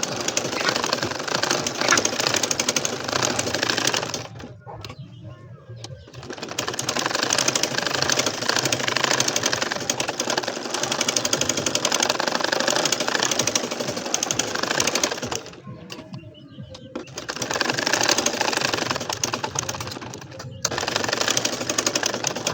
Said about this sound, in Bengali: এইটা কিন্তু কালো খয়েরি কালারের উপরে সাদা কালারের সুতা দিয়ে সেলাই করতেছি